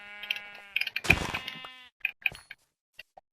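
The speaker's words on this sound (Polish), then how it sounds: "O, owca." A Minecraft sheep bleats loudly and close, a wavering cry followed by a couple of shorter bleats, then quiet.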